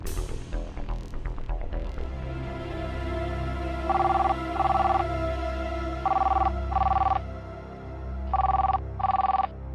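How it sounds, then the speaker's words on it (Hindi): A phone rings repeatedly in paired electronic trills, three double rings with pauses between, over a low background hum and no one answering. "देखो ना, वहां सम्राट फोन ही नहीं उठा रहा है।"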